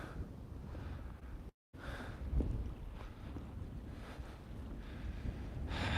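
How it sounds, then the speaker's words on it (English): Constant rumbling wind buffets the microphone, a dull, gusty roar with a brief dropout near the start. "It's pretty windy right now."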